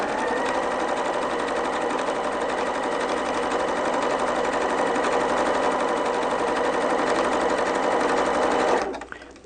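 A Janome S5 Skyline sewing machine stitching quilt batting runs fast and continuously as a dense, loud, even whir of needle strokes, then stops abruptly just before the end.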